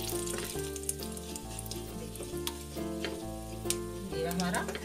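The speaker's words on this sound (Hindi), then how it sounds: "घी हमारा गर्म हो गया है, इसके अंदर हम जीरा डालेंगे" Cumin seeds sizzle and crackle steadily in hot ghee in a pan, a close, continuous frying hiss with a few brief pops and a low tonal hum running beneath.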